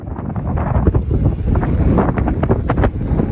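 Strong wind buffets the microphone outdoors on Tenerife, a continuous loud rumbling gust with no speech.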